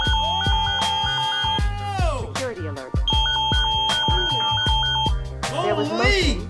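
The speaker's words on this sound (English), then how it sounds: "Alarm went off" A home security alarm triggered by motion detection sounds off in a series of loud, repeating electronic beeps and pulsing tones that run through the clip, with a brief gap near the middle.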